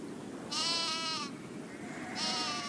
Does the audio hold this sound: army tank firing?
no